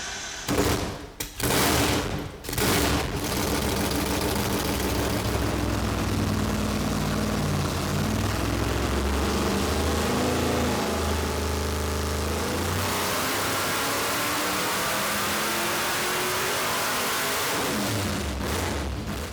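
A 1970 Dodge Super Bee engine roars on a hub dyno in a loud, sustained pull that climbs steadily in pitch for most of the run, then drops off near the end; no talking.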